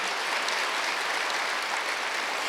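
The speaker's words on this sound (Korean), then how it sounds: "박수 좀 세게 쳐보세요" Strong, sustained clapping from a church congregation at a Wednesday service, loud and uniform throughout.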